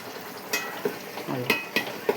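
Pan-frying for a fish curry gives a close, steady sizzle, broken by a few sharp scrapes and clinks of a utensil stirring in the pan.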